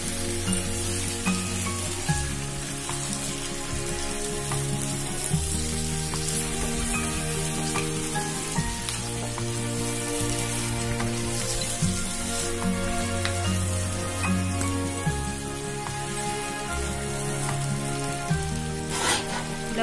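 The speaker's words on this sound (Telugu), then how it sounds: "ఇప్పుడు మనం నీట్గా కడిగి పెట్టుకున్న చికెన్ ని వేసుకుందాం. మసాలా అంతా వాటికి పట్టేలాగా చికెన్ పీసెస్ అన్నిటిని మనం కలుపుకోవాలి." Chicken pieces sizzle steadily in hot masala gravy while being stirred, with a continuous crackling fry and occasional scraping knocks of a spoon against the pan, moderately quiet and close, no talking.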